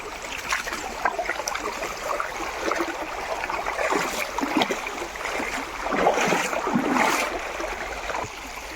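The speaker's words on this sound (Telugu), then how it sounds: "మేము మా చేనికి వెళ్ళాలంటే నాలుగు నదులు దాటిపోవాలి" River water swirls and splashes steadily as people wade across a river on the way to a farm field, a continuous rushing wash with louder surges near the end and no voices.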